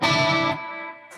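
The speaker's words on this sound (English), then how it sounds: "turn up the delay a little" Electric guitar chord through a Fractal FM3 rig with delay, a loud struck chord that cuts off and leaves a fading, echoing tail.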